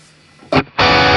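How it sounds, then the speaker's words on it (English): An electric guitar plays through a Morning Glory boost pedal into a NUX amp, first quiet, then a short loud overdriven stab, a pause, and a sustained crunchy chord ringing out. "in terms of a boost, Morning Glory should work fairly nicely for this."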